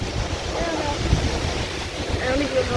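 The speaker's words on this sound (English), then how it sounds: "Mighty windy today." Steady wind roaring and buffeting the microphone, a continuous low rumble with gusts, no clear talking.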